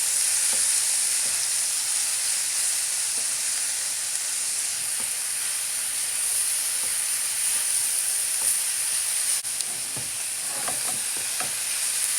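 A salmon and red cabbage mixture frying in a pan, a steady close hissing sizzle with occasional scrapes and taps as it gets stirred, running about twelve seconds.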